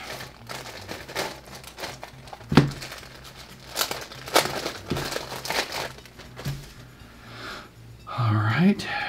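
Packaging of a Daniel's of New York leather card holder being opened, with crinkling and rustling of wrapping, a few sharper tears and handling noises, and soft talk underneath throughout.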